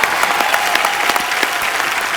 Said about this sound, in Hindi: ऑनेस्टी के लिए तो तालियां बनती पहले।